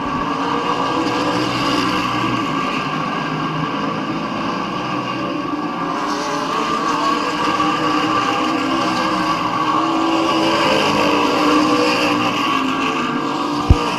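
Race cars circling a short oval at Midvale Speedway, a steady dense engine roar that swells and recedes slightly as the pack laps, continuous and fairly loud with no talk over it.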